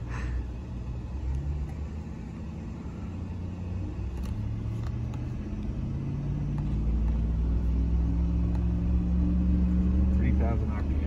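A 2021 Ram 1500 TRX pickup creeping slowly over a bumpy off-road section, its low engine rumble and drivetrain drone steady and close, growing slightly louder toward the end, with faint knocks and a voice under it.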